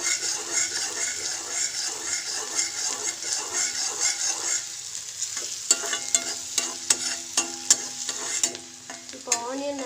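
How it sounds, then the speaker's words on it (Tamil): Onions and garlic sauté in hot oil in a pan for tomato soup, a bright continuous sizzle with intermittent clicks and scrapes of a stirring spoon near the end, and no talking. "ஆனியன் நல்லா வதக்கணும். பூண்டும் போட்டுக்கலாம் இது கூடவே."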